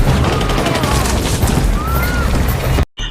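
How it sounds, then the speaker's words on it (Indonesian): Rapid gunfire and booming blasts from a film shootout rumble loud and dense for nearly three seconds, then cut off abruptly into a brief silence. "Dan terjadilah baku tembak."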